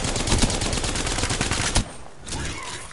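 Rapid automatic gunfire from a video game shooter rattles loud and close in a dense burst, cuts off abruptly, then a quieter stretch of game noise follows.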